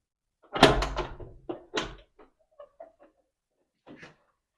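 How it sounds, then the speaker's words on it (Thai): The front door of a house is opened with a couple of loud, close wooden thumps and clunks, followed by several faint small clicks and rattles from the latch. "เดี๋ยวไปเปิดประตู บ้านกัน"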